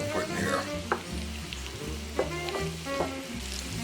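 Garlic fries for parmesan wings with a steady close sizzle, broken by a few soft stirring scrapes and taps in the pan.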